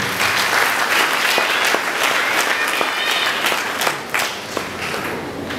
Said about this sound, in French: Et nous applaudissons, s'il vous plaît.